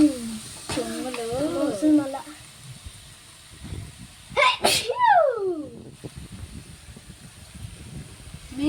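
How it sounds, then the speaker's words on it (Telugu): A person at home sneezes sharply once, a loud, sudden burst in the middle of the clip, while someone talks briefly before it and quiet rustling and background noise fill the rest. "మీ ఇంట్లో ఎట్లా తుమ్ముతారా ఫ్రెండ్స్?"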